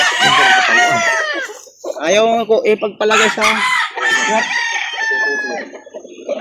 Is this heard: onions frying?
no